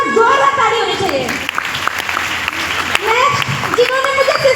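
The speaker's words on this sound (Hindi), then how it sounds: "उन्होंने मुझे ज्वाइन करा तो मैं सभी के लिए बार जोरदार ताली होनी चाहिए।" An audience at a business meeting applauds loudly, with continuous clapping mixed with an amplified speaker's voice and cheering over it.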